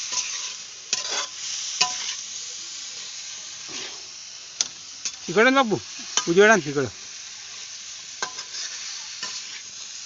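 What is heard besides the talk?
vegetable tempering sizzling in hot oil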